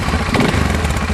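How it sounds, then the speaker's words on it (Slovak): A Dinli DL801/901 quad bike, a 450-class ATV in neutral, firing up on its electric starter, its engine churning loud and close in a short continuous burst. "Klasický elektrický štarter"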